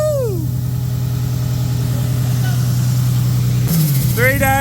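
A Toyota Supra engine runs loud and close with a throaty, steady idle, then blips into a quick rev near the end before settling back.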